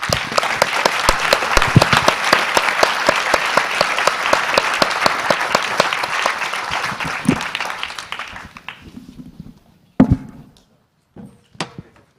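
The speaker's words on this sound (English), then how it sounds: "A big round of applause for our panel." A conference audience applauds a panel at a forum on democracy in the digital age, with dense, rhythmic clapping for about eight seconds that thins to a few scattered claps before dying out.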